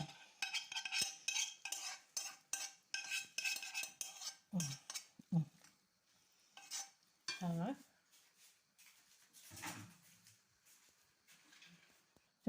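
Pasta and sugo sauce are stirred in a pot with a spoon, giving repeated close scraping and clinking strokes in an uneven rhythm, with brief low bumps of the pot and a few short spoken remarks between stirs.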